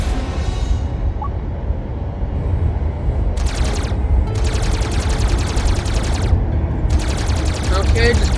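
Spaceship guns firing in the space combat video game Iron Sky: Invasion, loud sustained bursts of rapid gunfire in long stretches over constant engine rumble.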